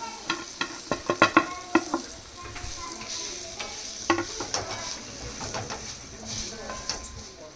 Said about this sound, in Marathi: डाळ थोडी हलवून घ्यायची आणि त्याच्यामध्ये हे सगळं टाकायचं.